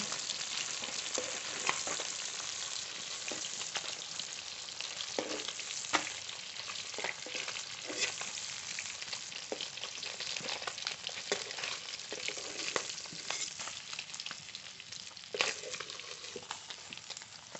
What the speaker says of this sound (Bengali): এই একই তেলে আরও মাছ ভেজে নেব